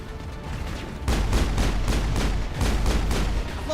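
Rapid sniper rifle fire in the sci-fi shooter Mass Effect, a steady run of loud, evenly spaced shots with heavy booming low end, alone without voices.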